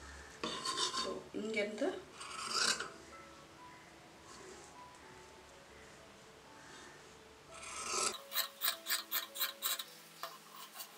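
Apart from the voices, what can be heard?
cutting out blouse back piece fabric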